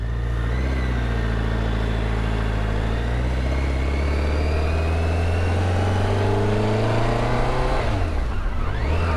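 A BMW K1 motorcycle engine revs and pulls away in first gear, its pitch climbing steadily and loud up close before dropping off sharply near the end.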